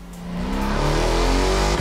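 A car drifting in The Crew Motorfest, a loud close engine drone rising in pitch as it revs, with faint tire noise under the steady roar.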